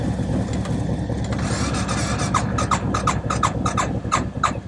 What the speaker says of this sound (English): That's one Suzuki start if I ever heard one.